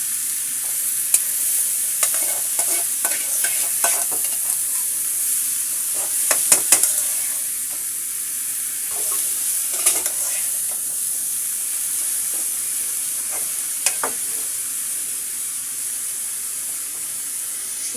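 Radish greens with chopped onion and garlic sizzling in a pan while being stirred, a constant bright hiss punctuated by frequent scraping and tapping strokes of a spatula, close up.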